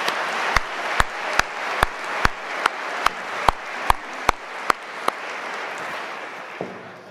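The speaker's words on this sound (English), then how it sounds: "Once again, please join me in a round of applause for the MacEwan University Big Band." An audience at a university convocation ceremony applauds the MacEwan University Big Band in a steady, moderately distant wash of clapping with a few sharper individual claps standing out.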